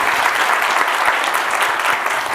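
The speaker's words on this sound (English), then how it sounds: "one more big hand of applause for the entire hotel for doing such an amazing job" Loud, dense applause from a symposium audience honoring the hotel staff, sustained and even with no letup, many hands clapping close together.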